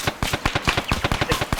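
A machine gun in the game Arma 3 fires a fast, sustained burst of evenly spaced loud shots, heard up close from a first-person view.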